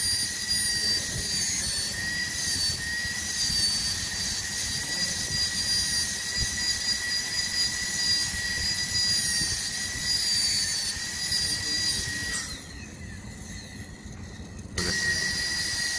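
High-pitched dental drill whine held steady as it reduces the distal slope of a maxillary canine during tooth preparation, continuous and fairly loud for most of the stretch, briefly dropping away near the end before resuming.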